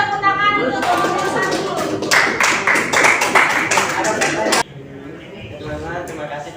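Audience clapping at a school presentation in a classroom, a dense burst of claps over about four seconds that cuts off abruptly, with faint voices behind it.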